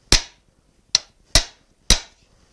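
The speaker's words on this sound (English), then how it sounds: "so that means I can hammer on this, and it should move in." Four sharp metallic hammer blows ring out at uneven intervals as bent metal is straightened, each a crisp strike with a short decaying ring.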